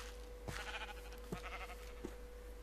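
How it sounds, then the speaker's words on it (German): Sheep in the video game Minecraft bleat three times in short, separated calls over a quiet steady background hum, with no talk. "Hätten wir jetzt weiße und schwarze Schafe."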